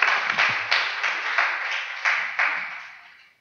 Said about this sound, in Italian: Ci facciamo un applauso